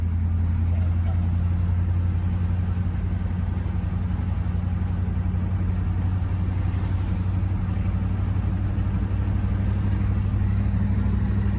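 Engine of an old Chevy K10 truck with a three-speed, driving in a high gear at speed without downshifting, a steady low rumble and drone that continues throughout without letting up.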